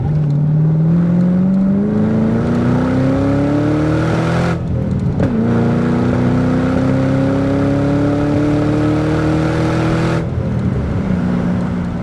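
A supercharged 4.6-liter 2005 Ford Saleen Mustang accelerating hard from inside the car, engine pitch climbing loudly through the gears with two brief shift breaks, a strong steady roar throughout.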